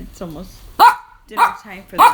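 A pet dog barks in a home near mealtime, three loud yaps spaced about half a second apart, mixed in with a person talking close by.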